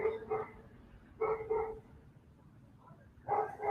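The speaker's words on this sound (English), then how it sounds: "It's not my dog." Small dog barking in a crowded urban setting in Tel Aviv: three short bursts of two or three yips each, moderately close but quiet, separated by pauses of low background hum.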